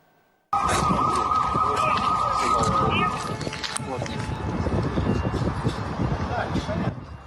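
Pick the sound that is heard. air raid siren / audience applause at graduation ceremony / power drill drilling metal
air raid siren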